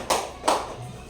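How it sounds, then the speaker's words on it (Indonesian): Two sharp, close hand claps half a second apart ring out in a classroom during a school lesson on Surah Al-Ma'un, followed by a quiet low hum. "Kita tepuk tangan dulu sama temannya."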